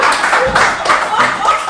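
Studio audience on a French-language talk show clapping along in a steady rhythm, a run of close, even claps that keeps a regular beat.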